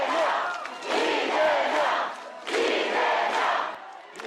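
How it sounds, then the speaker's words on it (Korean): Supporters at a political press conference cheer and clap in rising and falling waves, crowd shouts and applause blending at moderate distance. "지지자들의 환호와 박수 속에"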